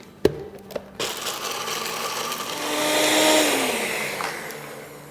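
Dry vermicelli (seviyan) being ground in a kitchen grinder for kunafa, a steady whirring motor roar that swells in the middle and eases off after a few seconds, preceded by a couple of sharp clicks.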